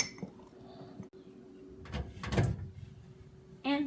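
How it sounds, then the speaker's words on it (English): A fork mixes chocolate mug cake batter with vanilla extract inside a mug, giving a few soft scrapes and a brief cluster of clinks against the ceramic midway through, close up, with no talking. "I'm going to take a fork and mix it up."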